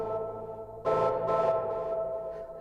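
A note from the Mynth synthesizer rings out with stacked tones, then a brighter layered note enters and slowly fades through a long, drawn-out decay, alone with no voices.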